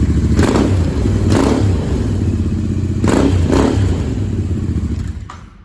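A Royal Enfield Interceptor 650 with its exhaust baffles still fitted revs loudly and close by, rising in a few strong throttle blips over a deep, steady engine rumble before cutting off.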